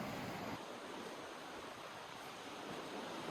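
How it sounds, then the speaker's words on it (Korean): Ocean surf washes steadily onto a winter shore at sunrise, a continuous broad roar of breaking waves with wind noise, fairly loud and without voices. "시원한 파도 소리에 근심이 씻겨가는 기분인데요."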